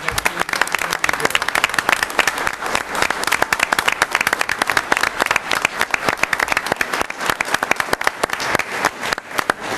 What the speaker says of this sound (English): I'd like to give the East Fishkill Police Department a round of applause for everything.